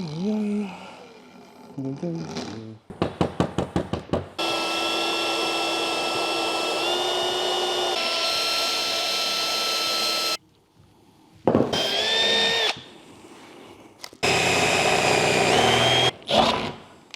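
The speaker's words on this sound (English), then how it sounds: "I'm just gonna grind some flat spots here on this and then send some drill bits through it." Metal being ground flat with a power grinder and then drilled, heard as a steady loud whine that shifts pitch, broken by short rattling bursts and brief pauses, close up.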